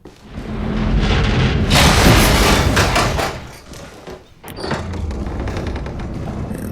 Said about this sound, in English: the door's open.